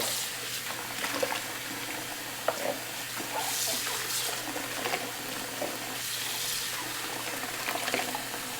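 Water running and draining through a strainer as pork meat for pozole rojo is rinsed in a kitchen, a continuous splashing wash with small clinks and sloshes throughout.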